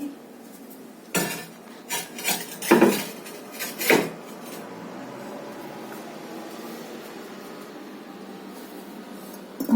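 Bisque-fired ceramic pottery pieces, such as small mushrooms, clink and knock against one another as they are lifted from a kiln. A handful of bright clattering bursts come early, followed by quiet background hiss.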